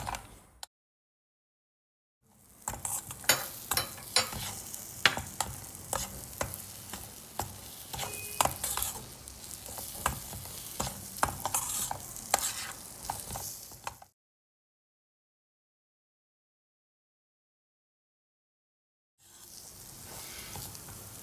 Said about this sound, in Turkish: yağ kendini bıraktıkça irmik de kavruluyor yavaş yavaş.